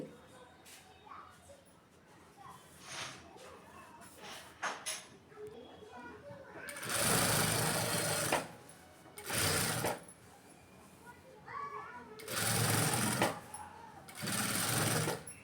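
Sewing machine stitching along the edge of a silk blouse lining, running in several separate loud bursts between quieter pauses with faint handling noises and brief speech.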